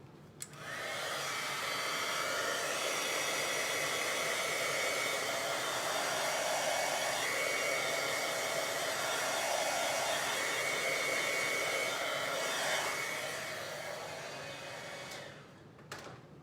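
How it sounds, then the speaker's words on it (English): A craft heat tool blows hot air steadily for about fifteen seconds, a close, even whooshing hiss with a slight motor whine that starts abruptly and fades at the end. "I'm gonna pull in my heat tool just so I can speed this up a little bit"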